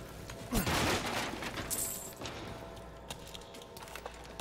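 Gunfire in the Resident Evil Village video game: one loud, sharp shot near the start, then a short rattling burst and a few fainter impacts over a continuous low background rumble, with no talking.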